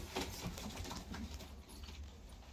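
Show pigeons, Japanese, blue, long-face and post breeds, coo softly and repeatedly in a loft, low throaty calls spread across the moment with faint rustling in the background.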